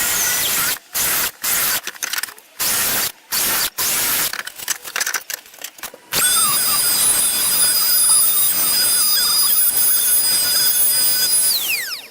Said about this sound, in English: So we'll go on and cut the mortises on the sides now.